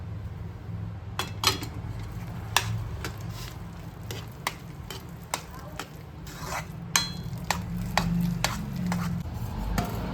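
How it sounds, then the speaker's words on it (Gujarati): Boiled potato mixture with coriander being mashed in a pot for a panipuri filling, a string of sharp taps and knocks from the masher at an irregular pace over a low background hum. "એને મેશ કરી નાખીશું."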